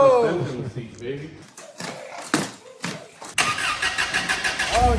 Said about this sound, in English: Even sounds like a Toyota starting.